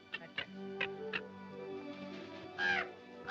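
A crow caws several times over a field, harsh calls spaced irregularly with a louder pair near the end, fairly close and without talk.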